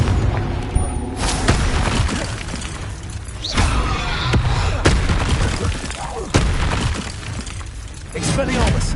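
Several booming blasts from the Confringo blasting spell in a Harry Potter video game burst out close and loud, one after another, among voices calling out.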